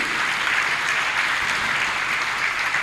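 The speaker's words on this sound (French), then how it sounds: "Est-ce que tu peux acclamer très fort Jésus-Christ?" Loud, sustained applause from a French-speaking church congregation at a healing service, with dense clapping holding steady throughout and no talk.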